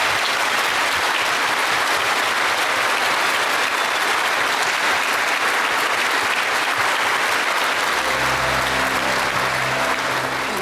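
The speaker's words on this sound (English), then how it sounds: "let's give our classmates, fellows, and scholars from the class of 2018 another round of applause" Steady, dense applause from a graduation-style audience honouring the class of 2018, a full round of clapping that holds for about ten seconds, with a low tonal sound entering near the end.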